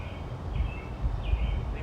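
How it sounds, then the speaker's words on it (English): Faint bird chirps, a few short high calls scattered over a breezy, rumbling outdoor background with no talking. "listen to the birds chirp."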